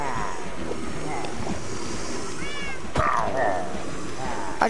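A cat meows a few times in Minecraft, short rising calls standing out over muffled background game sounds and a sharp click or two.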